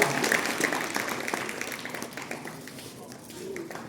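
Audience clapping at a Republic Day celebration at a school in Bagpat, Uttar Pradesh, a steady patter of many hands that gradually thins out, with a voice speaking over it.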